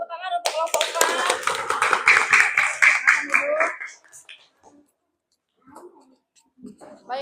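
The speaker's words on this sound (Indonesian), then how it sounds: "Tepuk tangan untuk kelompok 4." A student group receives applause in a classroom: a dense burst of many hands clapping for about four seconds, close and loud, with voices mixed in, then a few scattered claps and voices after it dies away.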